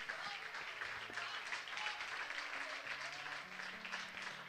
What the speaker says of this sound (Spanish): Bueno, aplauda si tiene ganas, no se quede con las ganas.